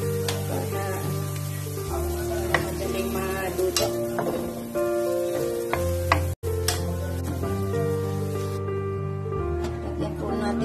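Steady sizzling of onion and garlic frying in a pan, with intermittent scraping and clinks as it is stirred, continuous and fairly close throughout.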